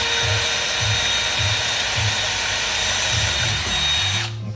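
A power drill runs steadily into a carbon fiber quad skate plate, a loud sustained whine with a pulsing low rhythm, cutting off abruptly near the end.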